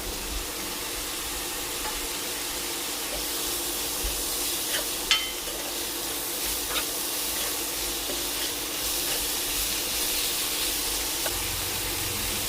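Chopped tomatoes go into hot oil in a home kitchen pan with softened ridge gourd, giving a steady, close hiss of frying with a faint sharp clink partway through and no talking.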